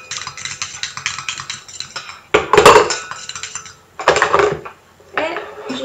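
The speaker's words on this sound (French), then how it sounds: "je prends mon huile avec mon émulsifiant que je mets dans le récipient" Oil and emulsifier are poured into a container for a homemade anti-cellulite cream, with light tapping followed by several louder glassy clinks and clatters in separate bursts, close and clear.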